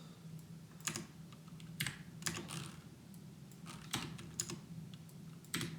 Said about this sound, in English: just gonna shortcut my way through of typing this